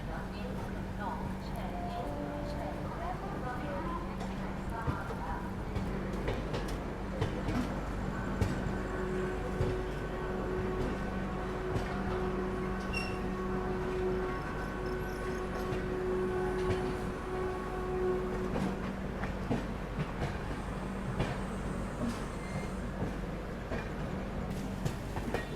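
The Magadh Express runs on its rails with a steady rumble and clatter. Tonal whines and hums rise and fall over the running noise, and voices are heard now and then.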